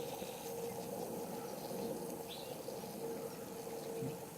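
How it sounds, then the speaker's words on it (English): Water at a rolling boil in a pot on a backcountry camping stove, a steady close bubbling and seething hiss that runs without a break, with no talk over it. "I'd call that a rolling boil now"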